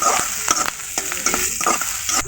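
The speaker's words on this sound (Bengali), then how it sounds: "এখন দেওয়া হচ্ছে পেঁয়াজ কুচি ছুনির সাহায্যে এভাবে পেঁয়াজ কুচিগুলোকে হালকা ভেজে নিতে হবে" Chopped onions lightly frying in soybean oil, pushed around with a spatula, giving a loud, continuous sizzle broken by repeated scraping strokes against the pan.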